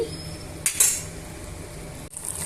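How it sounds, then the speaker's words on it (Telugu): Ginger garlic paste stirred in a pan while cooking a chicken curry, with a couple of quiet metal clinks of a spoon against the pan and only a soft background hiss. "అల్లం వెల్లుల్లి పేస్ట్ని యాడ్ చేశాను ఇవన్నీ కూడా ఇప్పుడు బాగా వేయించేసుకోవాలండి"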